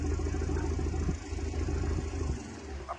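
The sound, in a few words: fishing trawler engine while moving through narrow channel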